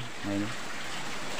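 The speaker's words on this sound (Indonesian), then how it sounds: "hujannya masih deras sekali teman-teman" Heavy rain pours steadily outdoors on a morning in Indonesia, a continuous soft hiss of falling water under a man's brief spoken words.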